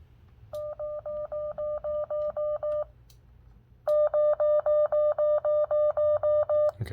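A ham radio sends a CQ call as a Morse code CW tone: two runs of loud, evenly keyed beeps, close and clean, separated by a short pause.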